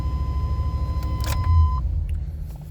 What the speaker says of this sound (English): now the car is running